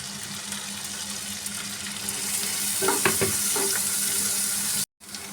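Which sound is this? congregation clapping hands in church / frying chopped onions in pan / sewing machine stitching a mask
frying chopped onions in pan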